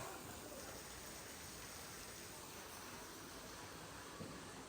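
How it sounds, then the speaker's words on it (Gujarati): Heavy monsoon rain pours down outdoors in a steady, dense hiss that stays at an even level throughout, fairly faint, with no voices. "ફૂલ જોરશોરમાં વરસાદ આવે છે।"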